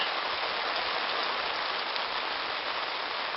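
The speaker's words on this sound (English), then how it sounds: "steady drizzle" Steady, even rain hisses softly and continuously, a gentle drizzle with no other sounds.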